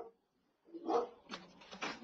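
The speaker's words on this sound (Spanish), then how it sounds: "desde el punto que uno sabe que ya le están ladrando" Dogs bark in short bursts on a street, a few sharp barks at moderate distance following a brief quiet start, with no talk over them.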